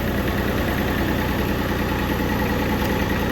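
An International 244 tractor engine idles with a loud, steady, close rumble that holds an even pitch throughout.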